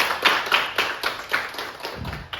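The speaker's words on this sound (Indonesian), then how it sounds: "Sekali lagi kita berikan aplaus." Classroom applause for a group that just finished its presentation: a short burst of many hands clapping in a quick, uneven patter, fairly close and without talk over it.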